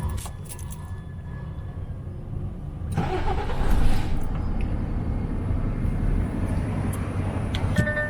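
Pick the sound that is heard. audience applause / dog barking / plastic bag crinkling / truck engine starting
truck engine starting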